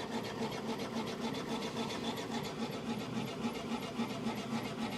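Lyson W3215 pollen cleaner running with a steady blower whir and a rhythmic mechanical pulsing, a continuous close machine noise that holds at an even level throughout.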